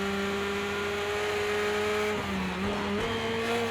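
Civic GRC RallyX rally car racing around Bannochbrae in Project Cars 2, its engine droning steadily at high revs with pitch dips and rises as it shifts through corners, loud and continuous throughout.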